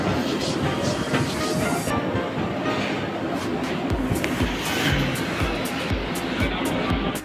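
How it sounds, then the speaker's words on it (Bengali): A train pulls into Krishnanagar station in West Bengal, a steady, loud rumble of rail cars with a faint clatter of wheels filling the whole stretch, with some station noise around it. "ফাইনালি আমাদের ট্রেন চলে এসেছে এদিকে"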